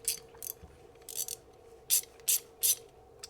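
A Craftsman ratcheting flex-head wrench clicks in short bursts, about six quick crisp ratcheting runs spaced apart, close and fairly quiet with no talk.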